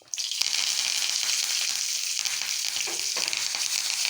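Fresh curry leaves crackle and sizzle in hot oil with turmeric while tempering for a homestyle tomato chutney. The frying is loud, close and steady for the whole stretch, with dense spitting pops and no talk.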